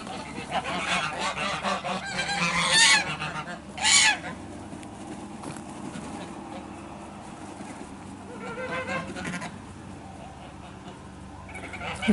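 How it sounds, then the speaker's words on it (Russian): Geese honk in loud bursts, with a few sharp calls standing out amid a noisy outdoor background and distant shuffling. "Гуси резвятся."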